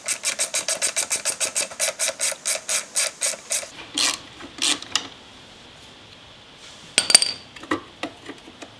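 A cotter pin being worked out of a Suzuki RM125 dirt bike, a rapid, regular series of metallic scraping creaks, about twenty close strokes, then a few slower scrapes and clicks before a last short burst.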